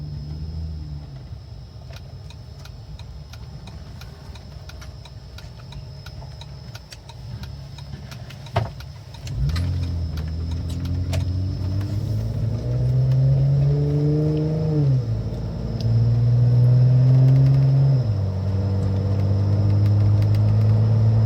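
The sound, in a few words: Jeep Wrangler engine idling and revving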